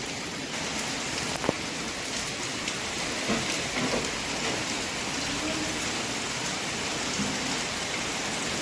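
Heavy rain driven by wind falls over a village, a dense, steady hiss that fills the whole stretch at constant loudness, with a few faint knocks and no one speaking.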